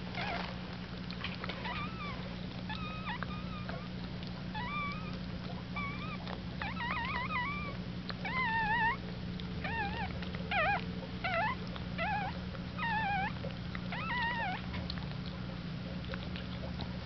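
A newborn Maltese puppy's high, wavering whimpers and squeaks repeat in short bursts over a steady low hum, close by, growing more frequent toward the end.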